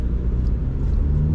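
A 2011 Proton Persona 1.6 automatic pulls away on a test drive, its engine giving a steady low rumble and road hum from inside the cabin, close and continuous with no talking.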